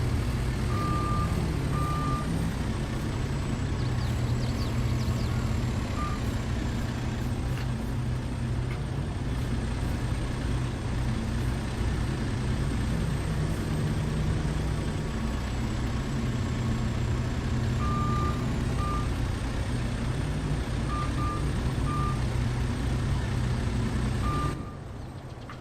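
A Kenworth truck in a farming video game, its engine running as a steady low rumble throughout while short reversing beeps chirp in small clusters on top, close and constant with no talk.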